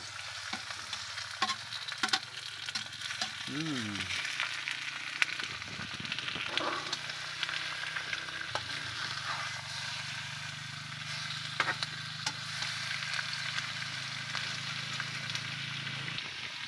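Squid dropped into a hot pan for adobong pusit sizzles steadily at close range, with stirring clinks and scrapes and a low hum underneath.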